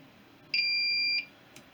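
A buzzer on a homemade motorcycle points static timing tester sounds once as a steady high-pitched electronic tone lasting under a second, then cuts off, with a faint click afterward.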